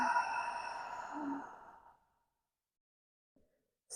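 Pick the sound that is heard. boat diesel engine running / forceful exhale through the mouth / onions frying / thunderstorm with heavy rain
forceful exhale through the mouth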